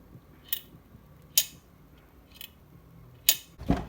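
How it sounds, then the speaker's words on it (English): A collet on an engine's inlet manifold clicks in and out, giving a few sharp, separate metallic snaps spaced unevenly over quiet background, close by. "You can hear that collet going in and out, which is really cool."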